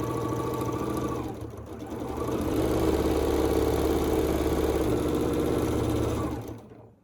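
A sewing machine runs a bag seam up the side in one continuous stretch. Its needle chatters in a steady, rapid mechanical rhythm that speeds up slightly midway, then stops at the end.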